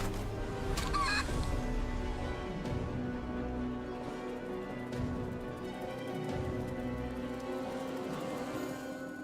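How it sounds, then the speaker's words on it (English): A chicken clucks in Divinity Original Sin 2 after a character is turned into one by a spell, short squawks early on over a dense bed of game ambience and effects. "Turn her into a chicken."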